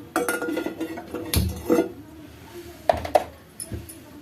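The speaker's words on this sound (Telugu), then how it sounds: "ముందుగా బాణీ పెట్టుకోవాలండి పెట్టుకుని స్టవ్ అంటించుకోవాలి" A pan set down on a kitchen stove and the stove being lit: several close metallic clanks and clinks, with the loudest knock in the middle and a few lighter taps afterward, and brief faint speech between them.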